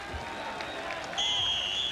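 Roughly 10,000 football fans in a stadium at a 1987 Kansas City Chiefs at LA Raiders game give a steady, distant round of applause, a soft wash of clapping and crowd noise.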